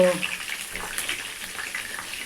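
Rasam simmers in a pot on the stove, a soft continuous bubbling and sizzling hiss that stays at a steady moderate level throughout, with no talking.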